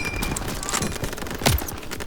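Rapid machine-gun bursts in a WWII Normandy landing video game, a dense rattling fusillade of continuous shots with a louder boom near the end, heard fairly close.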